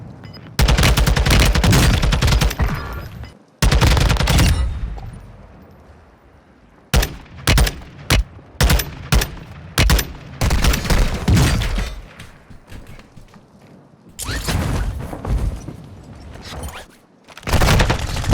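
Gunfire in Warzone 2: loud, close bursts of rapid shots, with several long volleys and clusters of sharp single cracks separated by brief quieter gaps.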